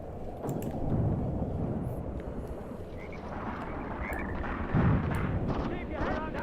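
Grenade blasts and artillery fire rumble through a dense, continuous battle din in the tank warfare game set in Tunisia 1943, heavy low booms rolling one into another with a stronger burst near the end.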